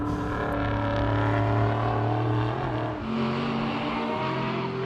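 Marc Cars and sports sedans race at Sydney Motorsport Park, with loud engines droning and shifting pitch as they run close together, forming a continuous, strong roar throughout.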